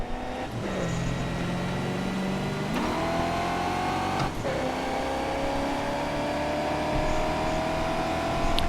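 Touring car engines racing in the British Touring Car Championship in Toca Race Driver 3: a loud, continuous engine roar with pitch shifts at gear changes and throttle lifts, no talk.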